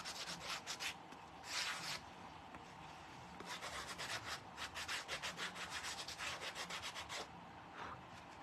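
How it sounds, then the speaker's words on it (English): Sandpaper rubbing over DIY shamrock craft pieces in quick, close back-and-forth strokes, with a few brief pauses between bursts. "I'm just gonna sand these down a little bit."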